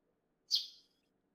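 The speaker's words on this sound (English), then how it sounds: "Birds?" A single short bird chirp from the Nekopara video game, a bright high tweet lasting about a third of a second, clear and isolated over a faint low background hum.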